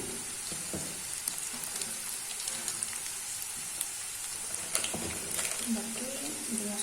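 Onions sizzle and fry in a pan as meat masala and red chili powder are added, making a steady, close, crackling hiss throughout. Someone talks quietly over the frying.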